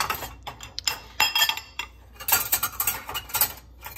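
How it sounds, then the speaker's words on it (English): A spoon is shifted in a loaded dishwasher rack, with close clinks and rattles of metal against wire and dishes in short uneven bursts. "I'm gonna fix this spoon because it's gonna fall out if I don't."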